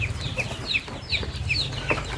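Chickens on a farm cluck in short, repeated bursts, fairly close and alone, with soft rustling in the background.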